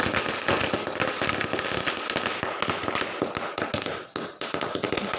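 Diwali firecrackers burst on a rooftop in a rapid, dense string of sharp cracks and pops, loud and close, continuing almost without pause.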